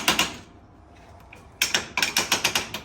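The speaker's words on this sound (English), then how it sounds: "you use something like a punch, push them all the way in" Metal clicks ring out as a punch drives bolts into a billet shock tower brace on a Can-Am X3: a pair of sharp knocks, a quiet pause, then a quick run of about seven ratchet-like snaps.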